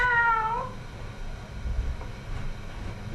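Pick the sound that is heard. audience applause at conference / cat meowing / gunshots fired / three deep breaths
cat meowing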